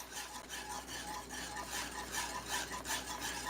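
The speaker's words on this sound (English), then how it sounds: "Stir it, stir it, honey. Stir it. You have to keep stirring" A spoon rhythmically scrapes and swirls through a homemade banana pudding mixture in a pot, a faint, close, continuous stirring sound with no talking.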